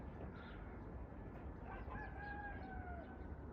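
A faint rooster crow rises in the distance in rural Spain over a constant low rumble of background noise.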